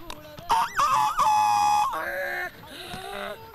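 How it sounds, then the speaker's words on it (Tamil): A rooster crows loudly nearby, a rising call that holds a long, strained note before trailing off, followed by a softer second cry. "இது என்ன சத்தம்? சேவல் சத்தம்."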